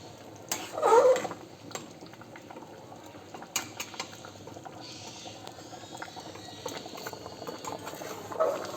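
Thick pumpkin curry bubbles and plops softly in a pot, a steady low simmer with occasional louder pops and light clinks of utensils.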